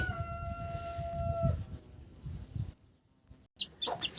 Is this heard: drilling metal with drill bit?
no